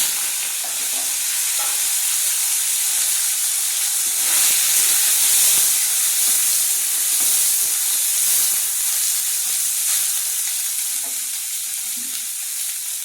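Soybean chunks fry in hot oil seasoned with cumin and bay leaf, giving a loud, steady sizzle and hiss that carries on without pause and with no talking.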